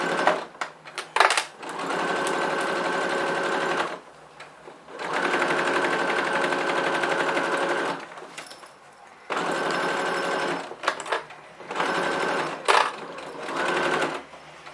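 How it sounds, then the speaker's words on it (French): A domestic sewing machine stitches fabric for a vanity case in long steady runs of whirring, stopping briefly between bursts as the presser foot is lifted and lowered, loud and close. "Je lève le pied et je repars pour ma couture."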